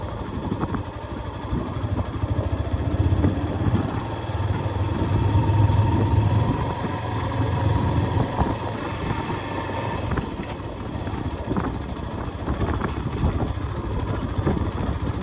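A motorcycle engine on a moto-vlogging ride, a steady low rumbling drone that holds evenly throughout with no pauses and no talking.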